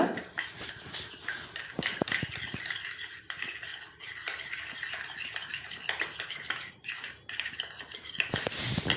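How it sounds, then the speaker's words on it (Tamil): A spoon scraping and clinking against a bowl while stirring a mustard oil hair paste, with quick irregular metallic taps and scrapes close up, steady for the whole stretch. "இப்போ கட்டிகள் இல்லாமல் நல்லா மிக்ஸ் பண்ணி விட்டுக்கோங்க."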